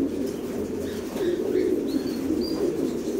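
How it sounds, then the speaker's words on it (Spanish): Pigeons and doves of many kinds, including a breeding pair of rafeño pigeons, coo in a low, continuous murmur at a bird seller's, with a few faint chirps over steady background noise. "De todo tipo de palomas tenemos aquí"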